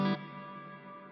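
A short synthesized tone passes through an ambience reverb preset with extra decay, width and modulation. It cuts off quickly and leaves a long, smooth, shimmering tail that fades slowly.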